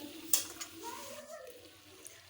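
Flat beans cooking down in a pan on a home stove, giving a faint, soft stirring and frying sound with a small clink near the start, low and steady throughout.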